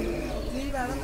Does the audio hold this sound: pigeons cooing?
yes